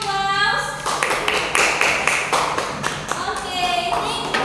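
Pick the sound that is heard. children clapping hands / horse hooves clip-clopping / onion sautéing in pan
children clapping hands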